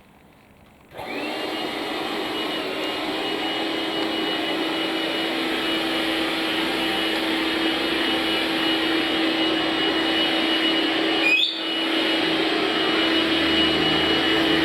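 A Dyson Cyclone V10 Absolute cordless stick vacuum switches on after a second of quiet, then runs as a steady, close, high-pitched whine and whoosh. A brief dip comes near the end, and no one speaks.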